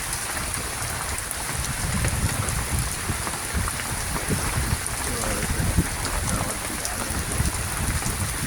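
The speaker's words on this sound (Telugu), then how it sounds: "వర్షం పడుతుంది." Steady rain falls in a dense, continuous hiss across the whole stretch, with faint low rumbling beneath and no clear pauses.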